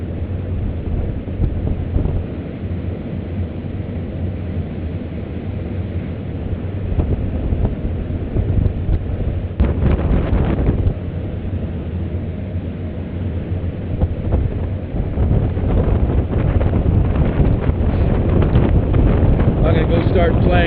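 An ultralight plane in flight at altitude, with heavy wind buffeting the microphone over a steady engine drone that grows louder and rougher toward the end, continuous and close.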